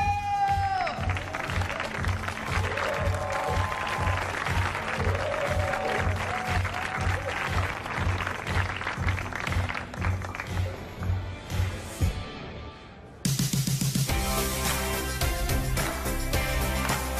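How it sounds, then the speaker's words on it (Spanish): An audience on the set of the teen TV series Soy Luna applauds a special guest, with steady clapping and crowd noise running under music and then giving way to a sudden louder music passage near the end. "quiero un aplauso muy grande para una persona que todos queremos mucho"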